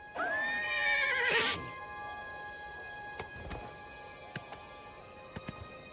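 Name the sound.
horse neighing in video game Oblivion Remaster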